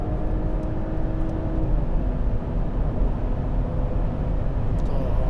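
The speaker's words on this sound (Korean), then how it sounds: "그러면 고속주행로에 들어왔으니까 한번 달려볼까요?" A Mercedes-Benz GLE 450 4MATIC SUV accelerating in sport mode on a highway, heard from inside as a steady, loud low engine and road roar with faint whirring tones, no voices.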